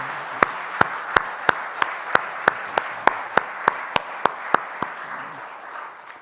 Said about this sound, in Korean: 하나님께 영광의 박수를 돌릴까요?